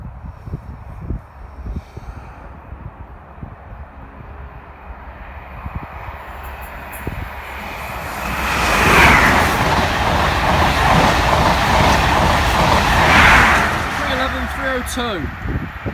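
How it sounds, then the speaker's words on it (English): An HST high speed train rushes past a level crossing, its roar swelling loud and close around the middle with rhythmic wheel clatter before fading, while a voice speaks briefly. "Here's a HST."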